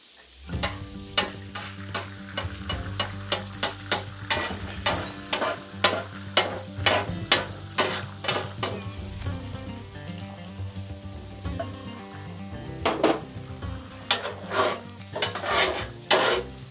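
Eggs fry on a griddle for a peppers and eggs sandwich as a spatula scrapes the hot surface in quick, repeated strokes over a continuous sizzle.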